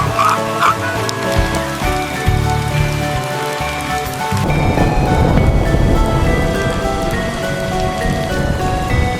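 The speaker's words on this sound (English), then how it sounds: "Big rain coming." Heavy rain pours down steadily on a farm, a dense, loud hiss that thickens partway through as the downpour intensifies, with no clear thunder.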